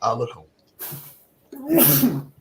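A single sharp sneeze bursts out near the end, loud and close, following a short stretch of nearby talk and a brief breathy sound.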